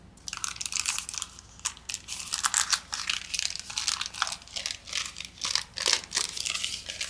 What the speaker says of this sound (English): let's listen to how our envelope sounds